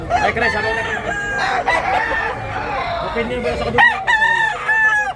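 Roosters crow repeatedly, overlapping one another, with several drawn-out calls close by and a few clucks mixed in; no one is speaking. Recorded at a rooster seller's place in Tabunok, Talisay, Cebu.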